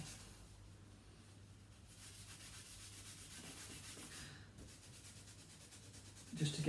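Excess ink is wiped off a surface before printing on fabric, making soft, steady rubbing and scraping strokes that pause briefly, followed by a louder handling bump at the end.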